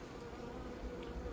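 Honey bees buzz in a beehive during a queen introduction, a steady, close, continuous drone with no talk.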